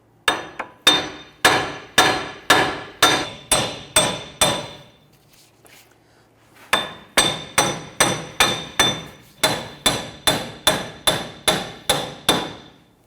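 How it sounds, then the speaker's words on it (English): A hammer strikes repeatedly behind the wheel hub flange of a 2011-2015 Kia Sorento to free it from the steering knuckle. Sharp, evenly spaced metallic blows come in a run of about ten, pause briefly, then resume steadily. "go ahead and hit behind the flange here to go ahead and separate this from the knuckle"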